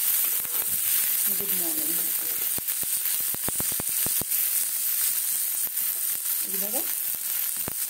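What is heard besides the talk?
frying food sizzling in a pan for litti chokha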